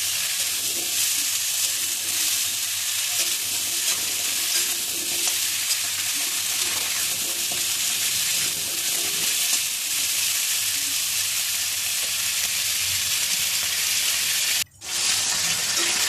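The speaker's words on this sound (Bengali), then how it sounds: "এবার আমি গাঁঠি কচু আর আলুটা দিয়ে দিলাম। এটা আগে দিলাম কারণ একটু ভাজা ভাজা করব" Chunks of taro and potato frying in a pan, a dense continuous sizzle and hiss held close, with faint stirring and a brief break near the end.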